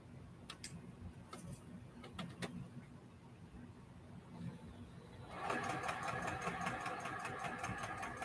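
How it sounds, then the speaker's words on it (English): A sewing machine stitches a quilt star block, starting after a quiet stretch with light ticks, then running steadily and fairly close with a dense, even mechanical rattle to the end. "So I'm going to go on and sew this down."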